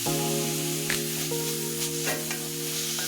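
Radish greens fry in a pan with a steady, close sizzle, while a faint, constant tonal hum runs underneath and a few soft stirring clinks break through.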